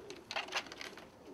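Ice pigeons of the white bar type coo softly and faintly, a low murmuring call over a steady background hiss.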